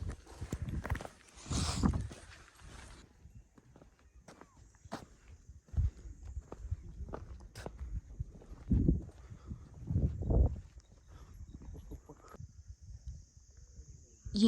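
Horses walking along a mountain trail toward alpine meadows, hooves clip-clopping irregularly close by, with louder thuds at times and people talking intermittently over the steps.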